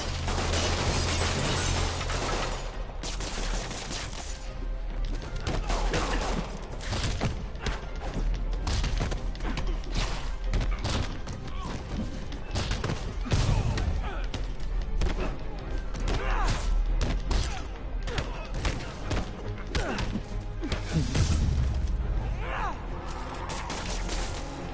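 Gunfire erupts in a Spider-Man PS4 fight against armed criminals, bursts of shots mixed with thuds, impacts and clattering mechanisms, loud and dense throughout with shouting game voices.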